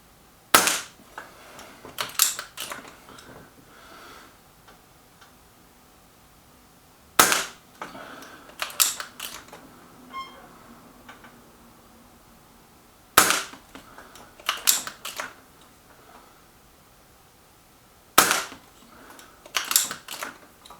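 Sharp shots from a BSA R10 Gen2 regulated air rifle crack out in four well-spaced bursts, each a loud snap followed by quick mechanical clicks and rattles.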